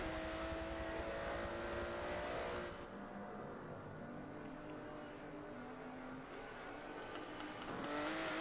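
GT1 race cars roar around the Mugello track in a racing video game, engines droning loudly and continuously with shifting pitch as cars pass close together.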